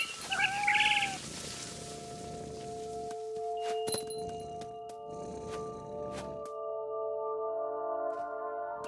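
A single clear cat meow rises and falls just after the start in What Remains of Edith Finch, then gives way to quiet held musical tones and a few light clinks.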